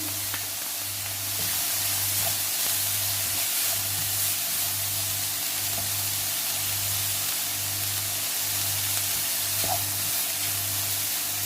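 Chopped carrots and other vegetables fry in a pan for veg momo filling, giving a steady, loud sizzle that holds throughout with a low pulsing hum underneath and no talk.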